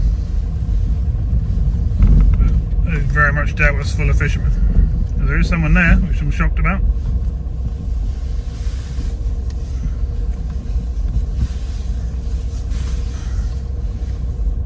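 Car rolling slowly into an icy, slushy car park by a river quay in stormy weather, a constant loud low rumble with wind buffeting the microphone while someone talks over it.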